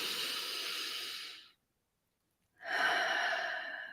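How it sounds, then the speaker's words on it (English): Slow, deliberate breaths close to the microphone: a long airy exhale, a second of silence, then a full hissing inhale, with no speech over them. "Breathing in and out."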